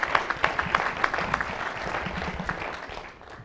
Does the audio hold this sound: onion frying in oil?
no